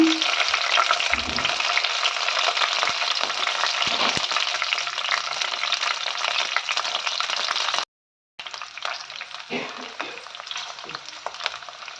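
Green chilies frying in three tablespoons of hot oil, a loud, close, continuous crackling sizzle with stirring, cut off by a brief silent gap before the frying resumes slightly softer.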